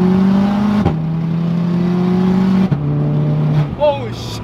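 A VW Mk6 Golf R with a 500 hp Stage 4 GTX big turbo swap pulls hard in third gear. Its loud, steady engine drone rises in pitch, dips briefly twice, and ends with a rising whine.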